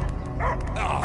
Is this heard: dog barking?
yes